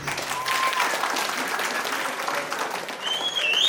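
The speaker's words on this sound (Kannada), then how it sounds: "ಒಂದ್ಸಲ ಜೋರಾಗಿ ಚಪ್ಪಾಳೆ ಬರ್ತದೆ" An audience at an engagement celebration breaks into loud applause, a dense burst of clapping that holds strong for a few seconds.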